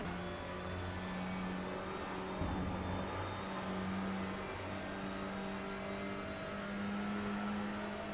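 A Honda Civic Type R TCR touring car races at Thruxton, its engine a loud, continuous drone heard from inside the car, with the pitch rising and falling through gear changes and no speech over it.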